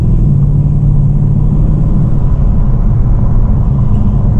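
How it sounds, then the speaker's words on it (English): A 2014 Holden VF Senator Special Vehicle cruising on the road: a loud, steady low engine and road rumble from inside the car, constant throughout without talk. "So taking this Senator for a cruise"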